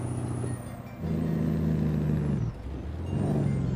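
An American truck engine in Euro Truck Simulator 2 with pro mods drones at a steady low rumble, its pitch stepping up and dropping back as it shifts gears, with a faint high whine above and no voices.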